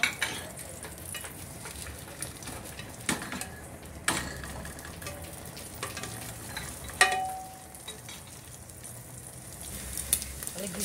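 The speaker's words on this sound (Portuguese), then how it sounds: "A linguiça já tá aqui fritinha" Calabresa sausage fries in a pressure cooker for a chicken-and-rice galinhada, giving a low sizzle with occasional scraping stirs and a few sharp knocks, close and fairly quiet, no talking.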